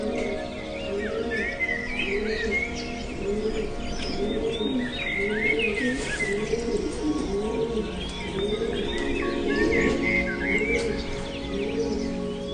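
Several pigeons coo in a loft, with soft repeated throaty coos overlapping steadily throughout and some higher chirps mixed in, fairly close, with no talk.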